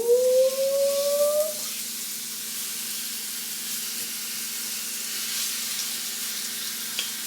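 A piece of food sizzles in a frying pan with a steady hissing fry, heard close up after a brief whistling tone at the start.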